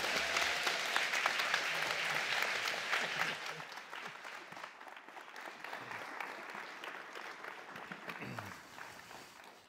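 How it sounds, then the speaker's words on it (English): An audience at a live exhibition unveiling applauds an astronaut, with sustained, dense clapping that holds strong for several seconds and then gradually thins and fades. "Please give a huge round of applause for Dr. Robert Thirsk."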